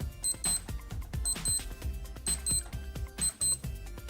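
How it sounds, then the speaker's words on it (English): A Casio AE-1200WH digital watch running an alarm test: quick bursts of shrill electronic beeps repeating in a steady rhythm, close and clear, with no talking. "we can press and hold the bottom right to do an alarm test"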